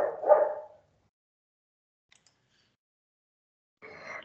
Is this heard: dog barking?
yes